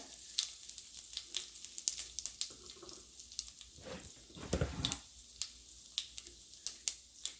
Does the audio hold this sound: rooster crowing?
no